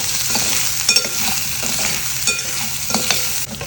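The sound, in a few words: frying capsicum with turmeric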